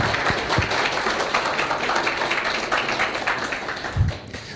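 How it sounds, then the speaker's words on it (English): Applause from the audience at the opening of the Linux App Summit 2023, a moderate, even spread of clapping in a hall that fades slightly toward the end. "Woo! Claps."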